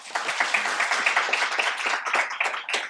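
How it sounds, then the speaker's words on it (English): Applause from the audience at a career talk on women in defence, a close, lively patter of many hands clapping at a steady intensity throughout. "Can we have a round of applause, please?"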